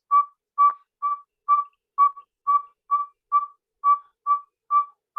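A saw-whet owl gives its spring mating call: a steady series of about a dozen evenly spaced, clear whistled toots on one pitch, alone and moderately close.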